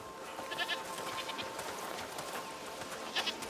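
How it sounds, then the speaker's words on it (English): Faint goat bleats in the video game A Plague Tale: Requiem rise a few times over a steady noisy outdoor background, distant and soft, with no talking. "Goats!"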